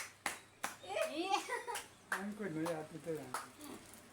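Children clap their hands at a playful game, several sharp, distinct claps spaced apart, mixed with a child's chatter and an adult voice speaking in between.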